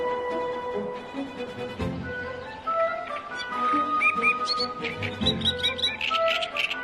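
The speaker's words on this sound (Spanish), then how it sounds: "Para la mayoría de la gente, el canto de los pájaros suena a música." Songbirds singing in nature, with a busy mix of whistled notes, trills and high chirps layered over one another, fairly close and continuous without any talk.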